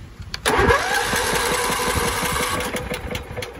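A John Deere L110 lawn tractor with a Kohler engine cranks over on the starter, a loud rapid rhythmic churning that begins abruptly and continues steadily without catching.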